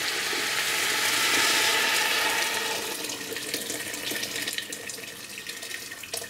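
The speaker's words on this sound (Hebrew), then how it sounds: "4 ליטר של מים רותחים" Hot water pours steadily into a soup pot for bean soup, a loud, continuous rushing splash close by that gradually settles toward a lower, gurgling fill as the pot takes on liquid.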